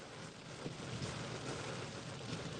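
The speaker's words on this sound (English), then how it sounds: "I wasn't going to get out because it's raining." Steady, soft patter of rain forms a continuous hiss with no voices.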